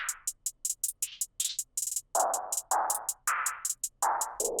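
Fast hi-hat rolls from a high-energy FL Studio beat tick in a rapid, busy pattern, with pitched melodic stabs cutting in between. The loop plays alone with no voice over it.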